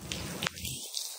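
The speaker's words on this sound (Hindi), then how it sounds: "सो यार बारिश हो रही है," Rain falling outdoors, a soft hissing patter with a few drips that drops away sharply near the end, with no talk over it.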